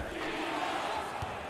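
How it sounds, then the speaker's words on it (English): College basketball crowd at a Western Kentucky vs Rice game, a dense sustained roar of fans chanting in an arena, steady and fairly distant with no clear break. "Listen to the chant."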